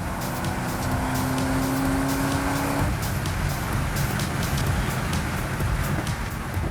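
A tuned car's engine roars steadily under hard acceleration, a rising tone giving way to a shift around the midpoint, then a continuous loud drone with no talk over it.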